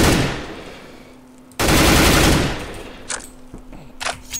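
M4A4 assault rifle fire in the video game CS:GO, heard as two loud, sustained bursts of rapid automatic shots close up, followed by a few fainter clicks and shots, with no talking.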